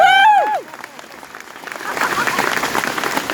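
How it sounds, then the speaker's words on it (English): A rally crowd breaks into applause after a brief spoken voice, the clapping building from scattered claps into a steady, moderately loud wash from many people. "Give him a round of applause."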